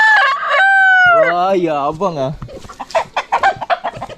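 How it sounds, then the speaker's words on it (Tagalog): Roosters let out of their pen, one crowing a long cock-a-doodle-doo up close, followed by several short clucks and calls, with someone briefly talking over the birds. "Pinalabas natin yung ating mga tandang."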